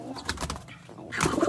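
Pigeon cooing close by, a few soft low coos repeating with a brief flutter-like rustle near the end, no talk over it.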